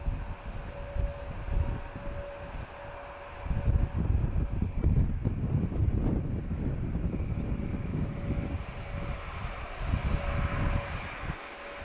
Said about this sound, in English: Challenger 350, Canadian designed aircraft.